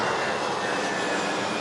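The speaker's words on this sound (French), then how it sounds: "On a un avion de la TAP là, qui s'apprête à décoller." A TAP airliner prepares for takeoff at Orly airport, a steady, even engine roar heard from a distance for a short stretch without talking.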